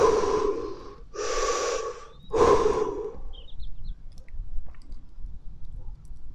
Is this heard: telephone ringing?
no